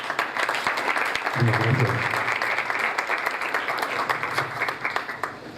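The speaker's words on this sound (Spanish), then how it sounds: "lo recibimos entonces con un fuerte aplauso" An audience claps loudly to welcome an economist arriving for a lecture, a dense round of many hands that continues throughout while someone speaks briefly into a microphone midway.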